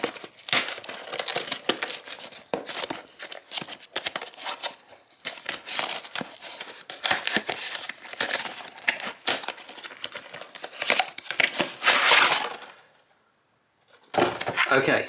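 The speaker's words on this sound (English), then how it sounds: "I'm just going to rip it open because I'm not going to keep the box." Cardboard box packaging of a Remington battery-operated nose, ear and eyebrow hair trimmer being ripped open: loud, close, continuous tearing, crinkling and crumpling bursts for many seconds, a brief silent pause, then more crinkling.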